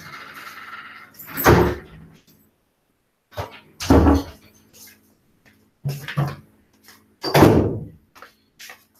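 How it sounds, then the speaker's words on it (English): A door slams in another room, several dull, muffled thuds at irregular intervals, moderately loud with room echo and no talking. "The door is slamming in another room."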